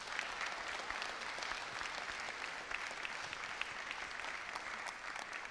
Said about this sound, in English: Should we give him a round of applause for that?